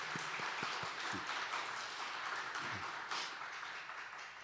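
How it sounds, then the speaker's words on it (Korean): A church congregation claps to welcome newcomers during a Sunday service, a moderate, even round of applause that gradually tapers off. "우리 환영의 박수 하겠습니다"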